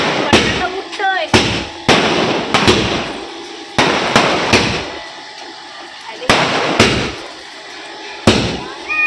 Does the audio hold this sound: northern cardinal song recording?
no